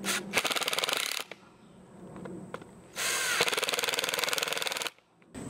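A power drill drives short screws into a wooden pallet garden, two loud, close bursts of buzzing, rattling motor whine with a quieter pause between them where faint handling noises come through.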